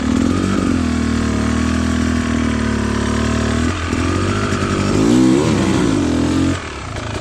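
A Beta Xtrainer 300 two-stroke enduro motorcycle runs with light throttle and clutch feathering on rocky hard-enduro terrain, its engine buzzing loud and near with wavering revs and short dips in pitch.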